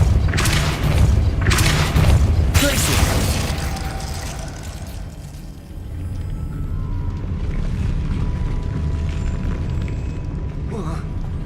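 Spell impact from Hogwarts Legacy on PS5: a few heavy booming bursts with airy whooshes in the first three seconds, then a sustained rumbling game ambience. No talk during the blasts.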